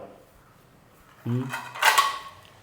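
Dishes and metal utensils being washed, with a couple of close, sharp clinks and a rattling clatter after a quiet stretch, and a brief voice nearby.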